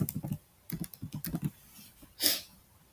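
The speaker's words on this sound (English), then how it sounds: "So I am typing here generate code" Someone types on a computer keyboard in bursts of quick, close keystrokes with short pauses, ending in a sharper key press, no talking.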